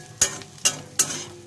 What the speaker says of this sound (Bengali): এটা হালকা করে একটু ভেজে নিয়ে একটু হলুদ নুন সামান্য একটু চিনি দিয়ে ভাজা ভাজা